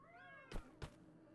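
A domestic cat gives a soft drawn-out meow close by, followed by two sharp knocking or bumping noises in quick succession, with quiet room noise throughout.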